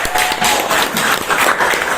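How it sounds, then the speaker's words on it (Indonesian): A room of people applauds loudly and close, a thick continuous patter of hand claps sustained throughout. "Tepuk tangan buat Desti."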